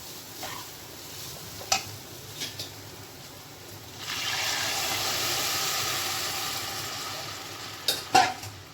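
Rice with cashews, raisins and sugar stirred in a pan, with sparse utensil knocks and scrapes at first, then a steady hissing sizzle midway and a few sharp clinks near the end, close and fairly quiet.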